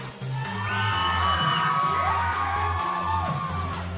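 A youth night crowd screams and whoops together in a large hall, a loud sustained roar of shrieking voices with a few bangs underneath, lasting several seconds.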